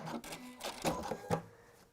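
A sewing machine stitching fabric masks, with a few short mechanical whirring runs and clicks, faint and close, stopping and starting over two seconds.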